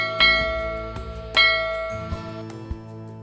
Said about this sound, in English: The ShipsBells app makes the sounds of the ringing of a ship's bell every half hour.